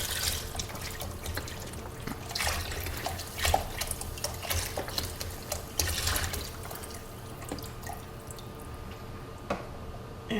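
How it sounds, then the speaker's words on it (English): Water with bouillon cubes poured into a pot while cooking chicken broth, a steady wet splashing and trickling with small drips, fairly close and continuous throughout. "Now I'm just going to add the water with the bouillon cubes"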